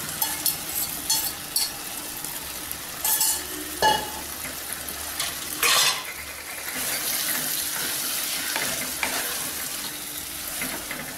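Prawns sautéing in hot oil with mashed tomato for a prawn masala curry, a steady close sizzle with occasional stirring clatters and brief water-tap bursts, no talk.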